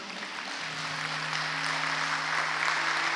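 A church congregation applauds together in a steady, even wash of clapping that holds at the same level for about three seconds, with a faint sustained tone underneath.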